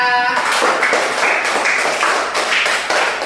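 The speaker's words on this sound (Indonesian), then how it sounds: "Tepuk tangan dulu untuk kita." A classroom of students claps their hands together after finishing an activity, starting abruptly after a brief tonal sound and continuing as quick, uneven rhythmic clapping, fairly close and loud.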